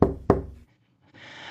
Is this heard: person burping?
no